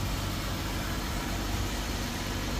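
A 3.6-litre V6 in a new 2023 Ram 1500 Classic Express pickup idles with a steady, even rumble and dense broadband hiss, constant in level throughout with no voices.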